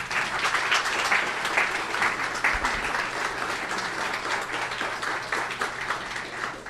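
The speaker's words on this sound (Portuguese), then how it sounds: "Aplauda a Jesus." A church congregation applauds during a Portuguese-language worship service, steady dense clapping from many hands filling the room continuously at a moderate level.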